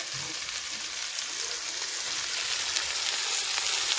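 Chili, ginger and cumin pastes fry in a hot pan with a loud, dense, continuous sizzle that grows slightly stronger toward the end; no one speaks.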